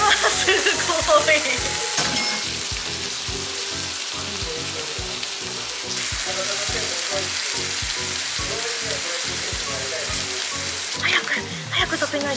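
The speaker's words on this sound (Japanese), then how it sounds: "早く食べないとジュージューが終わってしまう" Steady, loud sizzling of food frying on a hot plate, crackling continuously throughout with no talking.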